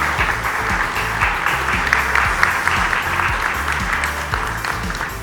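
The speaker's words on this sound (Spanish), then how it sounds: "Les pido un fuerte aplauso para nuestros panelistas y moderador." Sustained audience applause at a Supreme Court panel on image rights, honoring the panelists and moderator, a dense steady wash of clapping that continues for the whole stretch with no voices over it.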